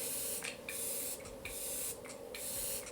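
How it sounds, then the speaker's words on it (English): A spray bottle mists in several short bursts close by, hissing spritzes with brief gaps between them over steady low background noise. "So I'm just gonna shake this and spray this all over the face."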